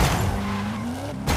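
A car in the racing game Forza Horizon 5 with the throttle held down, engine droning with rising pitch amid tire and road noise, loud and continuous, ending with an abrupt shift in sound.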